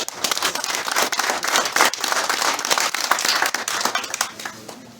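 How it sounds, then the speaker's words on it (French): Close, lively applause from a crowd at an outdoor event held at a stadium, many hands clapping unevenly, swelling and then slowly thinning out. "Donc je remercie la mairie de Luc. On peut les applaudir."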